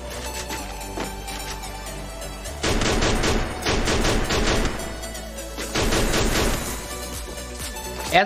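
Gunfire in an online battle royale match: rapid bursts of automatic shots come in several clusters of a couple of seconds each, loud and close, over steady game background.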